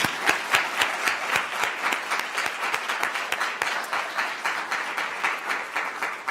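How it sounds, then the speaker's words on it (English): Audience applauds moot court competitors at the close of a law school competition, a steady wash of many hands clapping with distinct sharp claps throughout, fairly close and loud. "So one more time, if we can get a round of applause for them."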